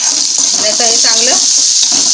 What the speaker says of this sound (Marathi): हलवून घ्यायचं मध्यम आचेवरती 2 मिनिट